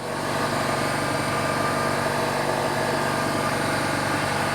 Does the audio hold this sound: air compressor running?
yes